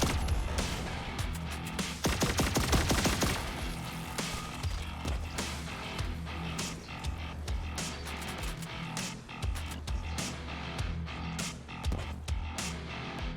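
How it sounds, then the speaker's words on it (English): Automated turrets in the cyberpunk boomer shooter Turbo Overkill fire in a dense, continuous barrage, with a loud burst of rapid shots early on and steady overlapping gunfire and impacts throughout. "Ooh, turrets."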